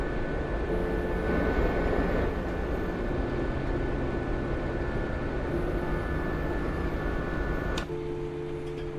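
An aircraft drones steadily in a flight game while crossing open desert, a continuous engine hum with tonal whine, fairly loud and unbroken, dipping slightly near the end.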